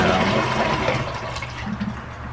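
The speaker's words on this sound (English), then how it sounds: "Just let water run on it for several minutes." Tap water runs steadily into a sink, rinsing black-and-white film after development, a loud, continuous close rush with no talking.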